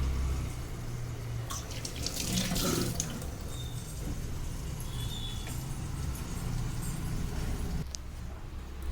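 Tap water runs steadily into a sink while fish pieces are rinsed clean in a home kitchen, a continuous splashing hiss with small clatters and shifts, no talking.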